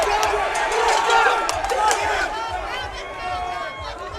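An amateur flyweight MMA crowd roars and cheers during ground and pound, a dense, loud swell of shouting voices that eases slightly toward the end.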